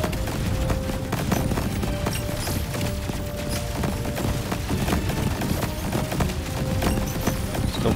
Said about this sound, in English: Still firing away here.